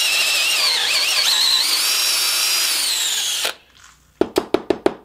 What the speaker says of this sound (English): you got to hit it with the reamer.